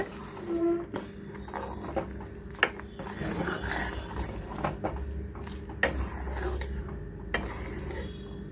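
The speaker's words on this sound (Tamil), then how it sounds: "இது கட்டி இல்லாமல் மிக்ஸ் பண்ணிக்கோங்க." A spoon clinks and scrapes against a pot in irregular strokes while tomato rasam is stirred, with faint background rumble.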